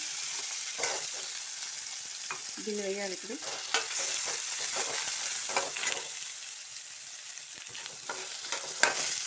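Peas and curry leaves crackle and sizzle in hot oil in a pan, with steady frying hiss broken by scraping stirs and clinks of a spoon; a voice speaks briefly.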